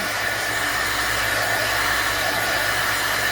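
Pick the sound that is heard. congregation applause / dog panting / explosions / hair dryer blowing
hair dryer blowing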